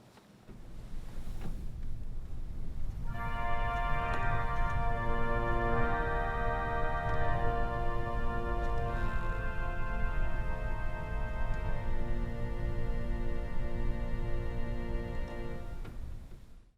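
Kotzschmar pipe organ's antiphonal division on the fifth manual sounds soft sustained chords of quiet stops, entering after a near-silent start and holding steady, layered tones until fading at the end.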